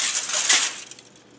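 Scissors cutting thin strips of soda can aluminum give a bright, crinkly metallic crunch that peaks briefly, then fades into faint scattered clinks and rustles.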